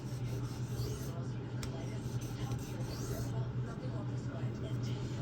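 A knife being sharpened freehand on a whetstone, heard up close as steady, unbroken gritty rasping strokes of the blade against the stone over a low background drone.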